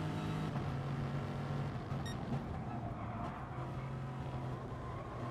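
Lexus and BMW race cars battling in a sim racing game, their engines a loud, steady drone with sustained harmonic tone that holds throughout without a pause.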